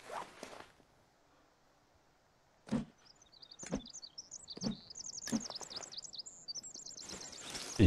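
Birds in The Forest video game chirp in quick, high, rising twitters, a lively cluster of calls building toward the end after several sharp thumps, fairly close and moderately loud.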